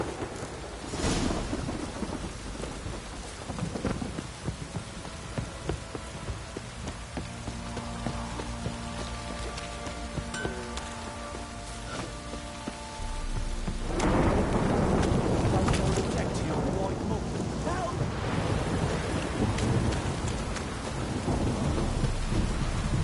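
In the video game The Witcher 3: Wild Hunt, steady heavy rain pours throughout while deep thunder rumbles and cracks, swelling louder partway through, with no voices.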